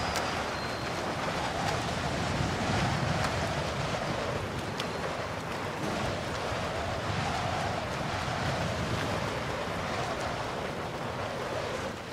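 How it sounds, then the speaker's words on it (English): Strong wind of about 35 miles per hour buffets the microphone at an outdoor alligator rescue, a continuous broadband roar with gusting swells and no clear voices. "Over this 35 mile an hour wind"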